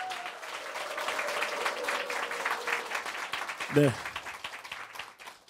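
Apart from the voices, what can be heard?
audience applause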